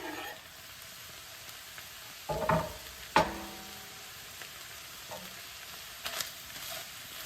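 Vegetables drop into a hot frying pan with oil, setting off a few sharp sizzling bursts and clatters against a quiet, steady frying hiss, close and fairly soft.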